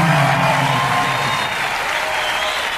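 Concert crowd at the Montreux Jazz Festival in 1997 applauding an axé band, a dense steady wash of clapping and cheering that stays loud throughout with a low vocal murmur early on.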